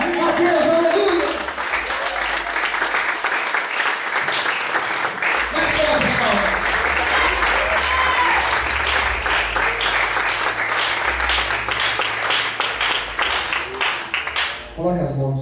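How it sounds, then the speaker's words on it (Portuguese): A church congregation applauds loudly and steadily, dense clapping filling the room throughout, with voices talking and calling out over it before it fades at the end. "Quantos podem aplaudir e exaltar a Deus?"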